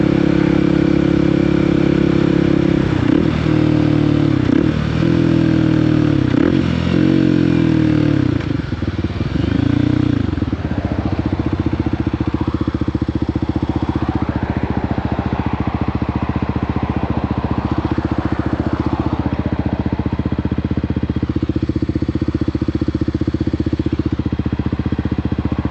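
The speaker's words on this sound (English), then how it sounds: "you hear how I'm shifting and how it sounds when I downshift and upshift" Motorcycle engine running steadily and close by, its pitch falling and rising as the rider downshifts and upshifts through the gears, with the revs surging and dropping several times early on before holding a steady drone.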